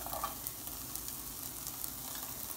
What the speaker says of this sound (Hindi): तो हमारा पैन गर्म है, इसमें मैं फैला दूँगी ओनियन को